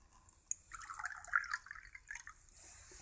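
Water dribbles and drips in small, quiet splashes as it is offered to a bird, a close run of faint liquid trickles with a sharper drip near the start.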